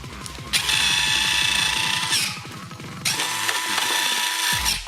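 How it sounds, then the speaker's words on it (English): Servoless retractable landing gear on an RC plane cycling: a loud whirring, ratcheting mechanical buzz runs for about two seconds, pauses briefly, then whirs again and finishes with a click, close up and without speech. "so I thought I'd just servo check on the landing gear"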